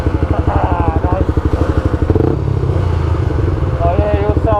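A motorcycle fitted with a Scorpion exhaust runs close by with a loud, rapid, pulsing engine note. Its rhythm shifts midway as the revs change, and people talk over it.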